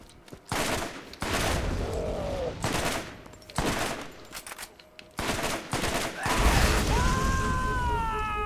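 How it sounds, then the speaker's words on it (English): Burst-fire weapons shoot in the Borderlands video game, loud rapid clusters of gunshots in repeated volleys with short pauses, ending with whining effects. "a vast majority of these weapons all seem to be burst fire weapons"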